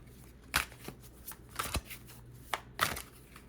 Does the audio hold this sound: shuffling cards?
yes